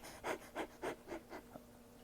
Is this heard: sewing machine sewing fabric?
no